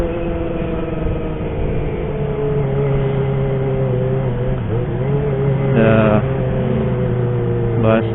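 A Kawasaki ZX25R motorcycle warming up after a morning wash, its engine idling loud and close with a steady droning hum and slight pitch wavers, a voice briefly speaking over it late on.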